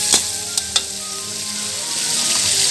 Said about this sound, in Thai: แล้วก็คนให้เข้ากัน คนให้เข้ากัน